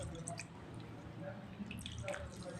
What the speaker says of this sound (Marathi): बघा मी थोडं पाणी घालते.